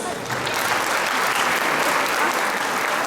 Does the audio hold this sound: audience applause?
yes